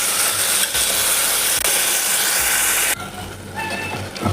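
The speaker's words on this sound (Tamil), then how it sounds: "நெக்ஸ்ட்டு தக்காளி ஆட் பண்ணிக்கலாம் தக்காளி நல்லா வதங்கிக்கணும்" Tomatoes sautéing in a pan for mushroom biryani, a loud, steady sizzle and hiss that drops to a softer crackle partway through, with faint clinks of stirring.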